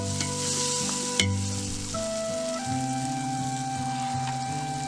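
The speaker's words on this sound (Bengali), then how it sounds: "এবারে মশলাগুলোকে ভালো করে কষিয়ে নেব" Dry red chilli powder, turmeric and other spices for a village-style biryani sizzle steadily in hot oil as they are stirred, with a bright clack near the start and background music playing throughout.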